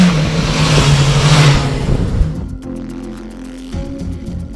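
The inline-four engine of a BMW S1000XR motorcycle revs loudly and close for about two seconds, then drops to a lower, quieter idle-like rumble.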